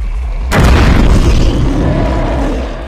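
A single heavy shotgun blast in Eternal Darkness, a sudden loud boom with a thick low rumble that decays slowly over the next couple of seconds.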